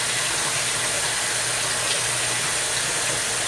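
Water runs steadily through hair to rinse out conditioner, a dense, continuous rushing hiss that stays loud and unchanging throughout, with no voices.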